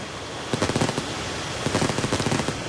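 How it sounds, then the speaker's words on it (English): Rapid bursts of popping fireworks explosions crackle in two quick volleys over a steady background roar, loud and fairly close. "I heard the fireworks and I thought it was gunfire."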